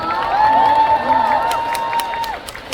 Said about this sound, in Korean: 우리 우서 씨께 뜨거운 박수 한번 보내드려볼까요?